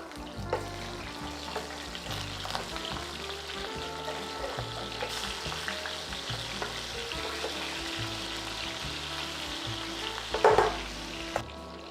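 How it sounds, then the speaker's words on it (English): Lamb ribs sizzle and crackle in a hot pan after being flipped, a steady dense frying hiss throughout with a brief louder burst of spattering near the end and no talking. "So right now I'm going to go and flip them."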